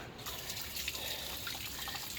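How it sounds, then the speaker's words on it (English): Water runs steadily aboard a Sea Ray 240 boat undergoing a diesel refit in the Philippines, a soft continuous splashing and trickle that starts abruptly and stays quiet. "Let's turn on some water here and go see if this boat cranks up."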